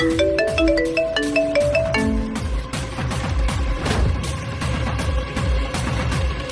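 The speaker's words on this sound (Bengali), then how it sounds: "কোন বড় সুপারস্টারের কল এটা বারবার বাজছে" A bright, melodic phone ringtone chimes its repeating notes, then gets swallowed by a loud, dense wash of booming, busy sound.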